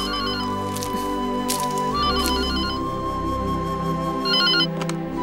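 A telephone rings in a home in repeated electronic bursts of bright trilling tones, set over a steady hum and low background sounds, with no talking.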